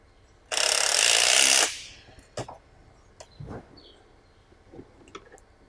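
A 5/8 deep well socket turned on a ratchet while tightening the frame of a 13-inch Honeybee wheelchair during assembly, opening with a loud sustained burst of ratcheting and followed by a few scattered sharp metallic clicks and clanks.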